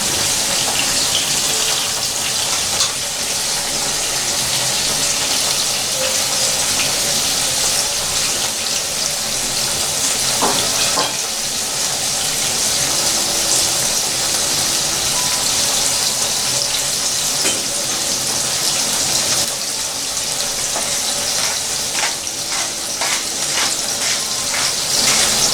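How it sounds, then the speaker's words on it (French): Flour-dusted eel pieces sizzle in a pan, a loud, continuous close-up hiss that runs unbroken, with scattered small crackles and spatters. "J'ai fariné mes anguilles, donc je pose mes morceaux d'anguilles."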